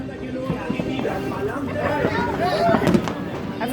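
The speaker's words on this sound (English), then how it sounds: "we're lighting up fireworks." Fireworks pop and crackle through a few seconds of festive night celebration, sharp reports scattered over a steady hiss, with excited voices chattering close by.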